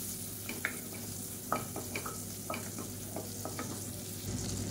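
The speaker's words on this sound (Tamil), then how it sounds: "நல்லா வதக்கி விட்டுக்கலாம்." Curry leaves, fennel seeds and mint leaves sauté in hot butter for a chicken soup, with a steady sizzle and repeated stirring scrapes in an irregular rhythm, close and fairly quiet, without talk.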